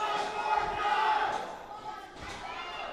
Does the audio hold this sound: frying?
no